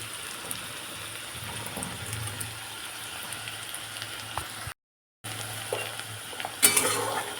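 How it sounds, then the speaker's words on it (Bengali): Onions sizzle steadily in a pan for a mutton curry, with occasional scrapes and stirs of a spoon against the metal, a brief dropout partway through, and a louder clatter near the end; no voices. "পেঁয়াজটা এখানে বেশ খানিকটা ভাজা ভাজা হয়ে আসছে"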